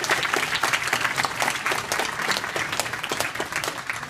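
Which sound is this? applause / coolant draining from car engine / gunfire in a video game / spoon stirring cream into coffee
applause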